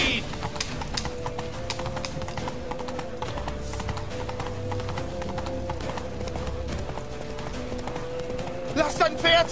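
Horse hooves clip-clop at a steady gallop in The Witcher 3 during a rushed ride to a temple, with a brief whinny near the end, running continuously under game music and spoken dialogue.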